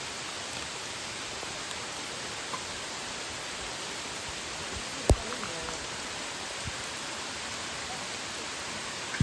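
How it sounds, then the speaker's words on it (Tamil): Heavy monsoon rain pours at a forest waterfall, a dense steady hiss of falling water filling the whole span, with one sharp tap standing out partway through. "பயங்கரமாக மழை பெஞ்சிட்ருக்கு."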